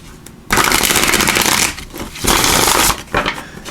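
Tarot of Dreams tarot cards are shuffled close by in several loud riffling bursts separated by short quiet gaps.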